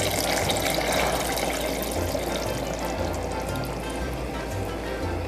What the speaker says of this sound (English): what we're going to add to this is about 3 cups of beef broth